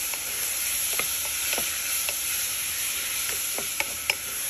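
Tomatoes and lemongrass sauté in a pan for a Filipino mung bean soup (ginisang mongo), giving a steady, close hiss of sizzling with scattered small pops and ticks, no voices.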